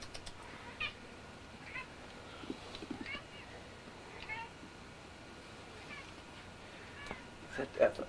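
Several house cats meow indoors in the morning, short scattered cries coming every second or so at moderate distance, one louder meow near the end, over a quiet room hum.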